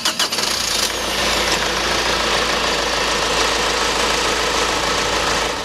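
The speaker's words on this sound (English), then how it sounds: "One of the things that you keep hearing about these direct injection, common rail, turbo diesels is that they're a lot quieter than diesels of the past" Honda Civic common rail turbo diesel engine runs steadily after a brief start, a continuous, fairly loud, rough diesel clatter heard up close with no voices.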